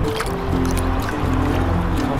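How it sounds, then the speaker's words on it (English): Steady water churning and splashing from a swimmer practising freestyle arm strokes and breathing in a pool, loud and close, continuous throughout with no talk. "water, swimming."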